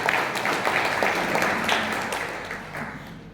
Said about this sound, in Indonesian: Yuk kita beri tepuk tangan untuk Tuhan Yesus.